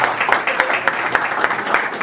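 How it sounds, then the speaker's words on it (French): An audience at a conference ceremony applauds, a steady wash of many hands with distinct individual claps standing out in a quick, continuous rhythm. "Sous vos applaudissements, mesdames, messieurs"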